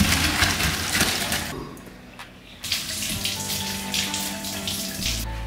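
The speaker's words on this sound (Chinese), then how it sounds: "把它倒出来洗干净" Blanched pork belly is rinsed under a running kitchen tap, a close steady gush of water splashing over meat in a sink, briefly easing off midway before surging again.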